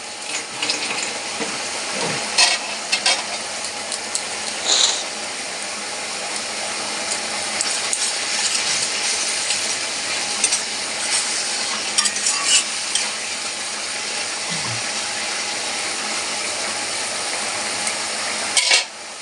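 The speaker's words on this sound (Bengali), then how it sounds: "এর ভিতরে যে আমি সব মাছগুলোকে দিয়ে নাড়াচাড়া করে নিলাম" Shol fish and pea greens cooked with ginger paste sizzle softly in a pan, with irregular scraping and knocking from a spatula as they are stirred, steady and close.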